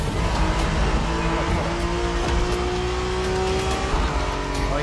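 Race cars roar in a driving video game, The Crew Motorfest, with engine whines rising and shifting through gears and occasional tire squeal, loud and continuous.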